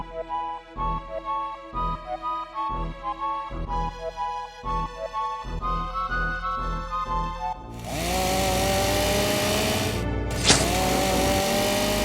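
Chainsaw engine revving loud and close with a choppy, pulsing rhythm, then settling into a steady high-pitched roar that briefly cuts out and restarts with a sharp rising whine near the end.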